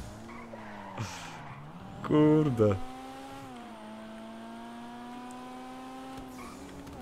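A car in GTA V skids and slides, with a loud tire squeal lasting about a second over a steady engine hum, while someone talks briefly.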